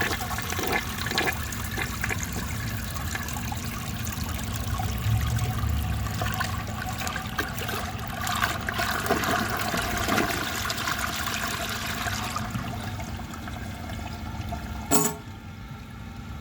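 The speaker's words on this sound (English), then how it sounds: "This will be the first time I'm flushing anything through it aside from water" A 1957 Gerber Mt Vernon toilet flushes with a loud, continuous rush and gurgle of water lasting many seconds, close by, ending with a brief sharp knock near the end.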